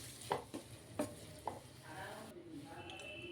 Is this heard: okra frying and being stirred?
yes